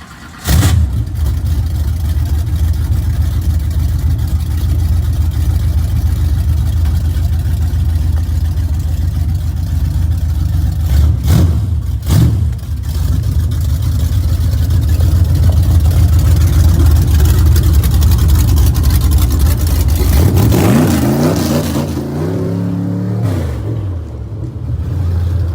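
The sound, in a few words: old dirt race car engine revving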